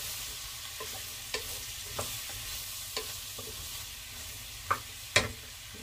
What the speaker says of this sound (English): I am going to add in some frozen jalapeno right now. Give that a stir again.